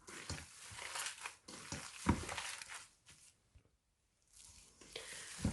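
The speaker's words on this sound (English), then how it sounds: "Just make sure you thoroughly mix it, get all that masala in the meat." Minced meat keema being mixed by hand with masala for seekh kabab, giving soft wet squishing and slapping sounds in irregular bursts, close and fairly quiet, with a brief pause near the end.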